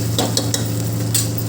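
Poppy seed paste sizzles in a pan with fried onions for a country chicken curry, a steady close frying hiss with a few stirring scrapes and spatula taps, no talking.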